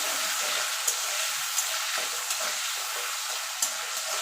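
Chickpeas frying in a pan of oil, a loud continuous hiss and crackle close up, with a few sharp clicks as the pan is stirred.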